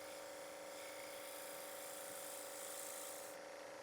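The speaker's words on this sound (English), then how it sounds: "sort of a shear scrape on the inside there to get rid of some of these ridges" A scraper shear-scraping the inside of a small wood bowl on a lathe, a steady thin whirring scrape with a constant motor hum, faint and continuous without talk.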